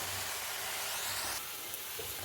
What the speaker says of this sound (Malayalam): ചെയ്യുന്ന സമയം കൊണ്ട് നമുക്ക് തേങ്ങ വറുത്തെടുക്കാം